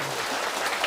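Brief burst of dense audience applause at a lecture hall gathering, steady and fairly loud clapping from many hands with no voices over it.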